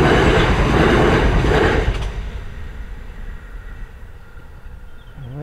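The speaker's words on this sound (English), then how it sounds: "Here's a train." A train passing near Amberley in England, a loud roaring rumble and clatter of wheels close by that fades away into quieter background, with a faint squeal at the end.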